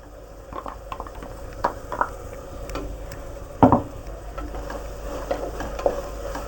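Coconut and milk fry in a pan for ghee rice with a low, steady sizzle, broken by occasional stirring clicks and one louder scrape of a spoon against the pan.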